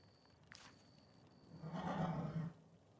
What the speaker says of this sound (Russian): Ничего себе. Лошадки.